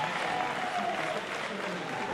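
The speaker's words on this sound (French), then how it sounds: "on va y applaudir votre gagnant" A crowd at a jiu-jitsu gala applauds the winner after a submission, giving sustained dense clapping with a faint murmur of crowd noise underneath.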